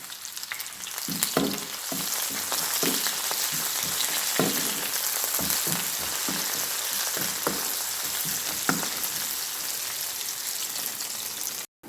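Curry leaves and dried red chillies sizzle in hot oil as a tempering for Jaffna-style radish milk curry, a continuous crackling fry with scattered pops, close and loud with nobody talking.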